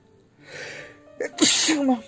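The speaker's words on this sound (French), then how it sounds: "Ah, je vais éternuer, attendez." A woman lets out a single close, loud sneeze with a short inhaled build-up followed by a sharp burst.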